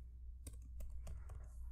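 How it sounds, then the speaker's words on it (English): Keys on a Mac computer keyboard are pressed in a quick, irregular run of soft, close clicks while text is entered into a Word document, over a low background hum. "Now type the text first."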